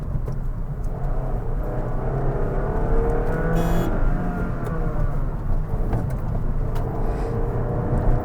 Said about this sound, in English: It revs all the way till 7000 RPM, it screams all the way till 7000 RPM